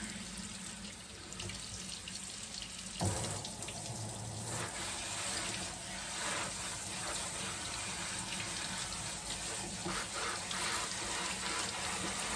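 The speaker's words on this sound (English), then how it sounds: "I just want to rinse this with some nice cold water" Steady cold tap water running over sprouts and splashing into a sink, continuous and close, with a brief change in the flow partway through.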